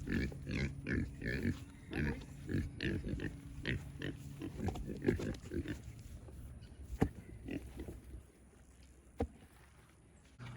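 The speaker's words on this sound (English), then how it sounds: "this guy right here, he's one of our feeder pigs" Feeder pigs out on the grass at a Central Texas homestead grunt close by in a quick, steady run of short oinks that thin out and grow sparser toward the end.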